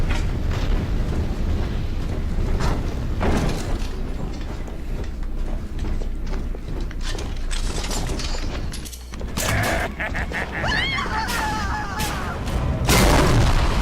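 A rivet gun fires in Bioshock 2, sharp bursts and booms scattered amid loud, dense combat noise, with some talk underneath.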